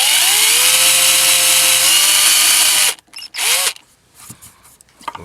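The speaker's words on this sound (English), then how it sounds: "I've got my tiniest drill bit here" A tiny drill bit bores into a guitar headstock: a loud, steady high whine of the small drill for about three seconds, then a few short bursts as it starts and stops.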